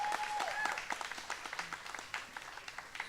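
Scattered audience clapping at an outdoor press conference for a community greening award, fairly faint and thinning into separate claps, with bits of background chatter.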